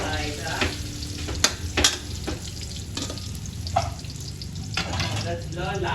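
Garlic and onion sautéing in a pan for pork estofado, a steady close sizzle broken by sharp clinks and scrapes of stirring, with no talking.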